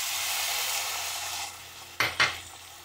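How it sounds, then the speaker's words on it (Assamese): Ivy gourd (kunduli) sizzling steadily as it fries in a pan, then two sharp bursts of hissing as a little water is poured in near the end, close and clear with no talking. "এতিয়া অকণমান পানী ঢালি দিয়ক।"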